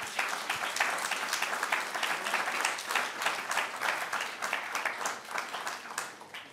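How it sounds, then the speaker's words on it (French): Steady audience applause fills a morning presentation of new titles by a book publisher, dense clapping sustained at moderate level from start to finish, with no voices over it. "Vous pouvez l'applaudir."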